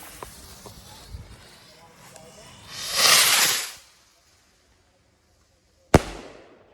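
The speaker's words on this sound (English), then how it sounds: "All right, red pearl, blue pearl, large rocket." A large firework rocket with red and blue pearl effects hisses upward in a rising whoosh, then after a short quiet a single sharp bang cracks and fades in the open air.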